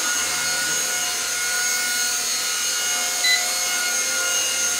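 Small beginner RC helicopter lifting off with its one-key takeoff button, giving a steady high-pitched rotor and motor whine that holds close and loud throughout, with no talk.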